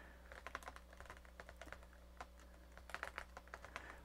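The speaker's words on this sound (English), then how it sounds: "The typing experience on that is unlike anything that we have today." Firm keys clattering on an IBM ThinkPad 350c laptop keyboard from 1993, quick irregular bursts of close, crisp clicks with brief pauses, steady low hum behind, no talking.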